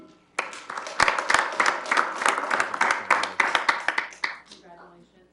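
A crowd at a council meeting applauds with sustained clapping that swells quickly and then fades toward the end, with a few voices mixed in.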